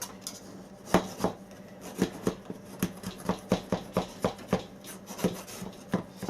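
A knife run around the inside sides of a non-stick cake pan for an upside-down pineapple cake, a close series of rhythmic scraping knocks, about two per second throughout.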